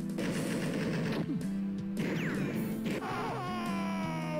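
Thompson automatic weapon fire in the game Alone in the Dark 2, dense bursts of rapid shots and crashing impacts mixed with game music and effects, loud and close.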